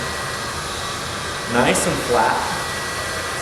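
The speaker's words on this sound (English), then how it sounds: "turn your blow dryer on low, and you'll just" A blow dryer running on its low setting while hair is smoothed down, a steady airy whoosh throughout with a person talking briefly over it near the middle.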